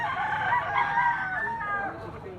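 A yellow-legged bull stag rooster crows once, a loud, close, drawn-out call lasting about two seconds and trailing off at the end.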